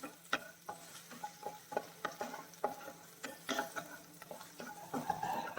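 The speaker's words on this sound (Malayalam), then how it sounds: "സവാള ഇഞ്ചി ചെറുതായിട്ടൊന്ന് മൂത്ത് കിട്ടണം" Onion and ginger sautéing in a hot pan for egg bhurji, with a soft sizzle under repeated scraping and clacking of a spoon stirring, close and moderately quiet.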